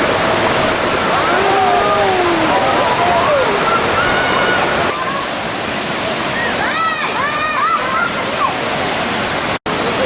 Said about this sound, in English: But it's an amazing waterfall.